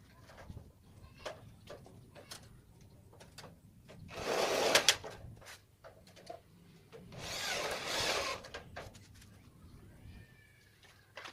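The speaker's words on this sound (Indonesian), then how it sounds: "Lalu kita bor." Two bursts of loud, harsh mechanical whirring, like a power drill biting into metal, drilling a lightweight steel fence frame, each lasting a few seconds, with scattered knocks and clatter between.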